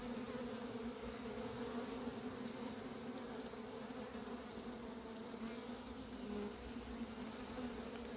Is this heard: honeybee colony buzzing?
yes